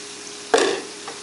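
A spoon scrapes once through sliced leeks in a pan for a leek, potato and smoked bacon pie filling, a brief close stir over a steady low hiss, then a faint second touch.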